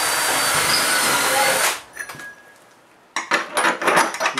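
A power drill drives screws into metal rails in a workshop, first as a loud sustained high whine, then a short quiet pause with faint clatter, then bursts of rattling metal and shorter drill runs.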